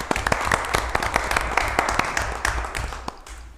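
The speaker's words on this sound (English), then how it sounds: "I'm going to give him a round of applause." A round of applause at a Rhinelander city council meeting, a modest group clapping in distinct, fairly close individual claps that thin out and fade toward the end.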